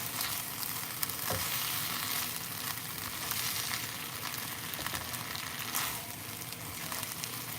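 Shrimp and peppers frying in a pan over medium-low heat while being stirred, a steady close sizzle with occasional scraping and clicking of the utensil, no voices.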